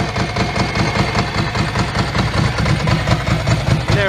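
A Ducati 851 S3 Monoposto motorcycle engine idles with a lumpy, rapid pulsing beat, steady and close, smoothing out slightly as it warms.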